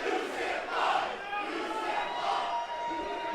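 A wrestling crowd at an ultraviolent deathmatch show shouts and chants continuously, a loud massed roar with rising swells, heard at a distance from the ring.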